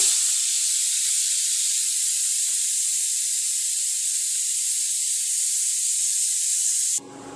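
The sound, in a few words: ghee sizzling as it is added to hot carrot halwa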